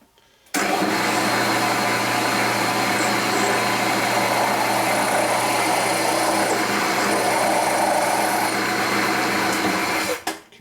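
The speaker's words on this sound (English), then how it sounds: "So now I'm going to take that and drill it all the way through." A power drill bores steadily through a cast iron flywheel from a Harley-Davidson 45 cubic inch WL/WLA flathead, a continuous whining drone that starts abruptly and stops after about ten seconds, with no talk.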